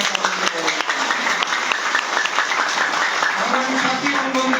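Audience applause at a political joining event at the National Press Club, steady dense clapping filling the whole stretch with no break.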